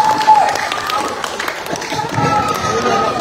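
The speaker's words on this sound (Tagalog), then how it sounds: "Palakpak ang kamot ng mga Bisaya." Hands clapping together from a crowd, a steady patter of applause filling the space, with a busy murmur of voices mixed in.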